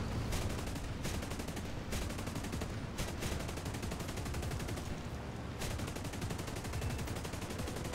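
Aircraft cannon fire in the War Thunder flight combat game, long continuous rapid bursts of heavy automatic shots with brief gaps, loud and dense throughout.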